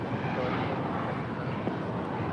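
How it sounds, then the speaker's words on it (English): An Air China Boeing 777-300ER departing LAX for Beijing, a steady broad jet engine roar held at constant loudness throughout. "Air China 988 will be departing to Beijing on this 777-300ER."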